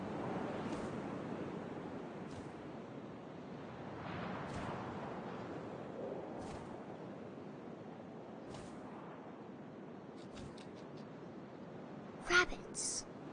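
Steady, soft wind rushes through the video game What Remains of Edith Finch, a low continuous hiss beneath a quiet narrating voice, with a brief sharper sound near the end.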